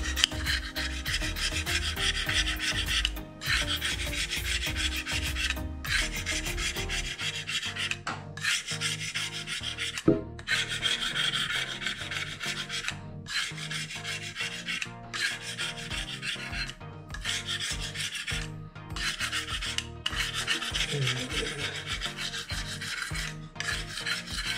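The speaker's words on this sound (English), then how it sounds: "And then we use the scraper." Rhythmic, rasping strokes of a scraper across a granite worktop, repeated steadily with short pauses between passes, close and fairly loud, no talking.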